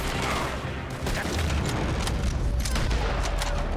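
Gunfire from a Red Dead Redemption 2 shootout crackles in dense, rapid bursts, loud and sustained throughout with booming low-end shots layered over one another.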